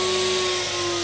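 A workshop dust extractor runs steadily with a constant whine and hum, loud and unbroken, beside a router used for cutting toolbox dovetail joints.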